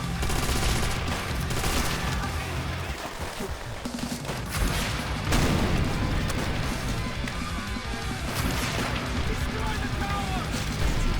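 Sustained rifle fire from allied soldiers in Call of Duty: World at War, dense overlapping shots and bursts with impacts, loud and continuous with battlefield chatter mixed in.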